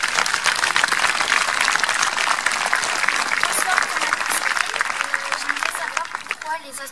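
Audience at a public lecture in Cordes-sur-Ciel bursts into sustained, dense applause for engineers, loud and continuous clapping that lasts for several seconds and fades slightly toward the end.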